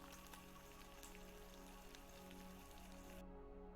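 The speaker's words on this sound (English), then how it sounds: "So you can just have bacon sizzling in the background all the time now" Bacon sizzling in a pan, played as a background sound effect during a Dwarf Fortress stream: a dense, steady crackling hiss throughout, quiet overall, with no speech.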